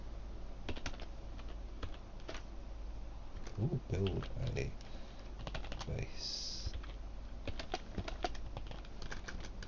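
Rapid typing on a computer keyboard, close and crisp key clicks in irregular bursts over a low steady hum, with someone speaking briefly partway through.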